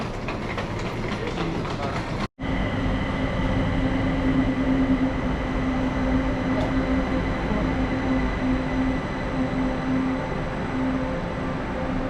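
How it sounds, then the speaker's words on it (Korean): A subway train arriving at a station in Kaohsiung, with steady clattering rail rumble and a sustained tonal hum for about twelve seconds, briefly cut off by a momentary gap near the start. "전철 왔습니다."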